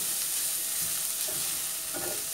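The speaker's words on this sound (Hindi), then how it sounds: "साथ में मैं थोड़ा थोड़ा सा इसे चलाती भी जाऊंगी, 1 से 2 मिनट तक इसे पकाऊंगी।" Chicken rice fries in a hot pan while being stirred, a loud, continuous close sizzle with soft scraping and shuffling of the rice as it is turned, no voices.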